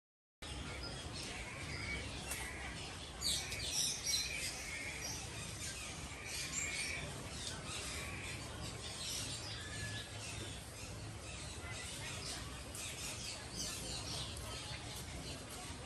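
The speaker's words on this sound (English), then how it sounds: "So these are the golden crested minor birds." Golden crested mynas call at Disney's Animal Kingdom, sharp chirps and whistles repeating over a steady crowd murmur with talk mixed in, busiest near the start.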